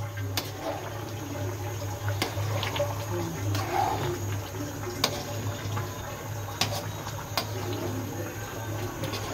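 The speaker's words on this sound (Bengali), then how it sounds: "খিচুড়ির চাল ধুয়ে নিচ্ছি" Rice for khichuri is rinsed under a running kitchen tap, a steady close splash of water with faint clinks.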